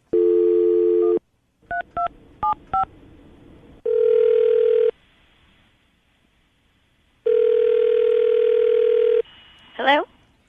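Telephone call being placed from a radio studio: DTMF keypad tones and a dial tone, then rhythmic ringback rings, loud and close, with no talking.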